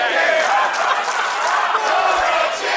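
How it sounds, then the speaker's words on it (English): A wrestling crowd at an SHW show roars and chants, a loud, dense wall of voices with whoops and yells sustained throughout the short stretch, heard close and with no single voice standing out. "Do you hear this crowd?"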